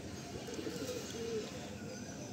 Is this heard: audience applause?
no